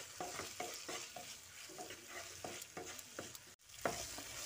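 Tomato and salt being stirred and fried in a pan, with a steady sizzle and repeated scraping strokes of a spoon at an even rhythm, close and quiet, with no voices.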